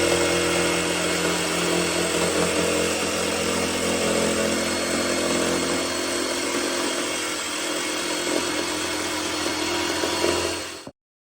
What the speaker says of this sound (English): Now I'm about to go and cut some MDF,